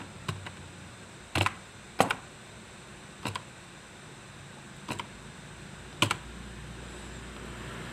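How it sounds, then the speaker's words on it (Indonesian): Half a dozen isolated key presses on a computer keyboard, including the page down key during network switch configuration, tap out sharply and unevenly against a quiet room. "selanjutnya kita gunakan arah page down di keyboard"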